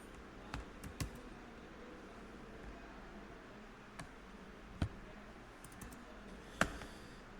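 Faint, scattered keystrokes on a computer keyboard, a handful of isolated clicks spaced irregularly over a quiet room hum.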